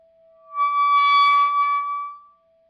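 A buzzing electrical hum from the bridge pickup of a G&L ASAT Classic electric guitar with the volume turned up, a steady tonal drone that swells in, holds for about two seconds and fades back out.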